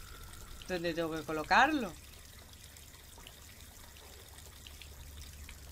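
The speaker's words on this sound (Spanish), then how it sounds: "Vale, la lleno de agua." Water pouring into a container in the hidden object game Mortimer Beckett and the Book of Gold, a short bubbling, rising glug lasting about a second, followed by a brief spoken question and quiet room tone.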